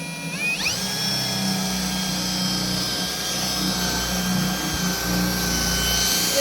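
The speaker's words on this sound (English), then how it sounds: "We start drilling as close to perfectly perpendicular and square and" A power drill bores a latch hole through a wooden door with a dull bit; the motor whines up to speed and then holds a steady, loud tone throughout, with no talking.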